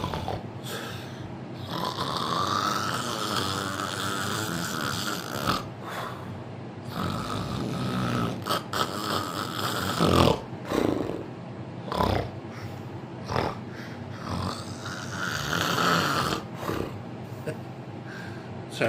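A man imitates loud snoring with his voice, a series of rough, drawn-out snorts and rasping breaths, some long and some short, close and prominent, with brief pauses between them.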